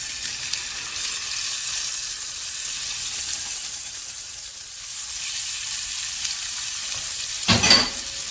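Lobster tails sizzle in a frying pan with a steady, close hiss of hot fat, and a brief louder crackle near the end as they shift in the pan.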